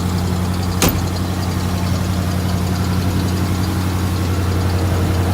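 A 1994 Ford F-150 XLT with straight-pipe headers idles with a loud, steady grumbling drone, close up and continuous, with one brief tick near the start.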